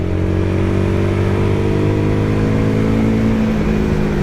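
Royal Enfield Guerrilla 450 motorcycle climbing through gears on a twisty mountain road, the steady engine drone rising in pitch, then dipping and picking back up as it shifts up, loud and close, mixed with wind rush.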